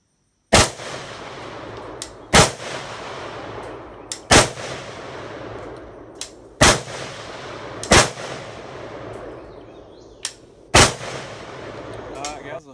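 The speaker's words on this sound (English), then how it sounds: "I'm going to shoot it like this without shooting myself in the face." Gunshots from a handgun fired at an outdoor shooting range ring out one at a time, six loud, sharp cracks spaced a couple of seconds apart, each trailing off in a brief echo.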